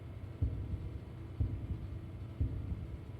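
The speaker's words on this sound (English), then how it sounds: "It is giving me the heartbeat now." Heartbeat effect in a dark video game section, three faint low thumps about a second apart over a steady hum, no talk.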